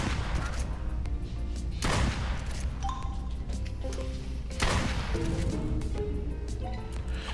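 Gunshots fired in the light-gun video game Duck Season, two loud broadband blasts a few seconds apart over a continuous game soundtrack with music-like tones.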